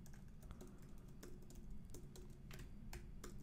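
Fingers typing on a computer keyboard, a quiet, close, irregular patter of light key clicks with a few sharper taps, alone without any talk.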